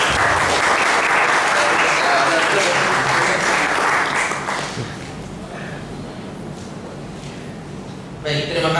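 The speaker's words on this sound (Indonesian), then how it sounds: "beri tepuk tangan untuk" A seminar audience applauds loudly and steadily for several seconds, then the clapping thins and fades to scattered claps with a brief swell at the end.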